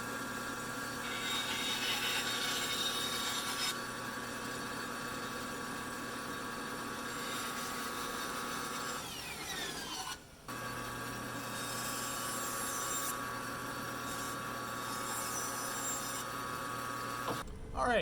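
A bandsaw cutting pieces of pallet wood for a Christmas tree, a steady mechanical drone with a whining blade tone that dips briefly in the middle, close by, with a voice speaking at times.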